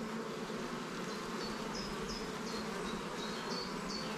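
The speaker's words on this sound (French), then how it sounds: "Là, c'est des gouttes de nectar partout." Honey bees buzzing steadily around open production hives during an inspection, a dense continuous drone with individual bees passing close by, no talking.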